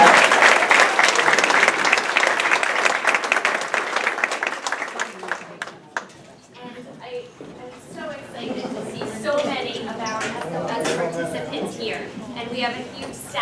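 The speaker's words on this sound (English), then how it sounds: "How about a round of applause?" A board of education meeting audience breaks into applause, loud dense clapping for several seconds that thins into scattered claps, then voices talking.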